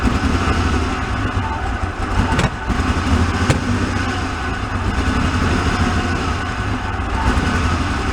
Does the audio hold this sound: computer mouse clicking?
no